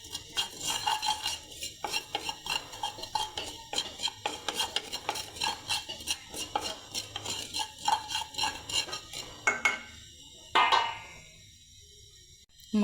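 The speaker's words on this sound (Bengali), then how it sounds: "একটু সাবধানে ভাজি করতে হবে যাতে কালো জিরাগুলো পুড়ে না যায়" Black cumin seeds dry-frying in a pan, stirred with a utensil in quick rhythmic scraping and rattling strokes, close up, slowing toward the end with a few louder clinks and no voices.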